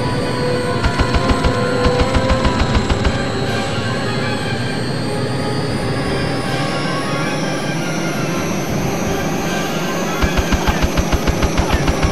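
Rapid bursts of cannon fire in the combat flight game Eagle One: Harrier Attack, loud and repeated in quick rattling volleys over a steady jet engine drone.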